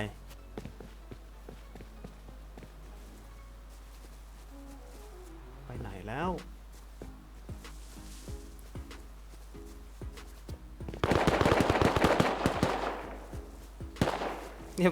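Gunfire in the survival video game Rust, with scattered sharp shots and a dense burst of rapid firing late on, mixed with footsteps and a voice talking over the game.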